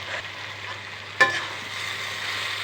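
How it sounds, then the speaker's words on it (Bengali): Vegetables frying in a pan with turmeric, a steady soft sizzle with one sharp clack of a utensil against the pan partway through. "হলুদ দিয়ে আবার এটিকে ভেজে নেব।"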